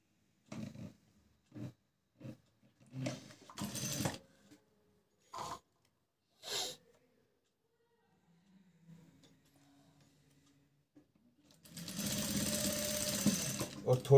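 Sewing machine stitching lace onto a fabric tassel made from leftover cloth, a steady close mechanical whir in the final seconds, preceded by faint handling taps and a voice speaking softly.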